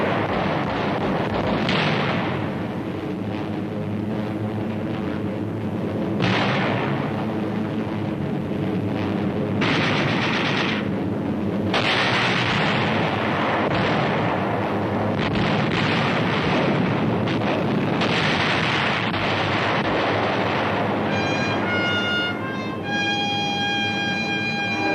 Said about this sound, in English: Delayed action bombs.